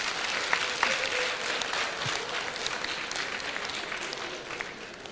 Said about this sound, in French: quand il a parlé, beaucoup ont applaudi dans la salle